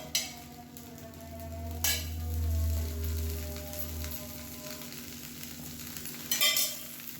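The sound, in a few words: dosa batter sizzling with oil on a hot pan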